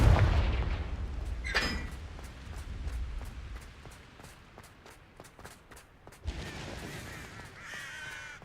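A Confringo fire spell goes off in Hogwarts Legacy, with a burst of blast and crackle near the start, then a long train of rhythmic sharp cracks and a deeper rumbling boom toward the end, with no voices.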